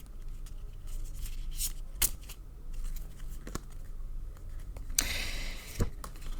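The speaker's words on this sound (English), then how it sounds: "I will again shuffle until Spirit asks me to stop" Lenormand cards being shuffled by hand, giving soft papery riffles and brushing with a few sharp snaps and one louder burst of flicking near the end, close and quiet, with no talk.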